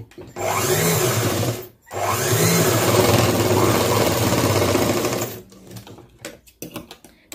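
A sewing machine runs steadily while stitching cloth, with a long whirring burst, a short pause, then a second extended run that breaks into a few brief stop-start bursts near the end.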